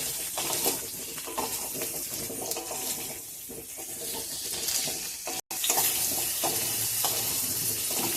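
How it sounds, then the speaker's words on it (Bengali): Potatoes frying in oil in a pan, with a continuous close sizzle and watery bubbling, some light stirring, and a brief silent cut partway through. "আলুগুলো একটু লাল করে ভাজবো।"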